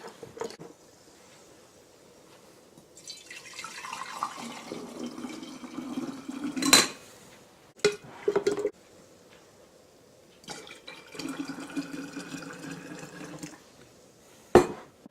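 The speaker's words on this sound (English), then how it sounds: "I'm going to stir each jar up and then pour some into this jar." Sourdough starter fed with potato flakes, sugar and water is stirred in jars at room temperature and poured into another jar, giving wet scraping, clinks and pouring splashes in several bursts at close range, with no talk.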